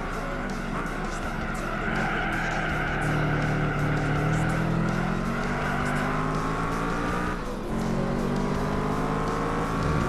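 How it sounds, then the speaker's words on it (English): A Shelby Cobra racing car in Gran Turismo 4 accelerates hard on nitrous, its engine note climbing steadily and loud with some tire squeal, dipping briefly before rising again. "Better believe I'm using the nitrous."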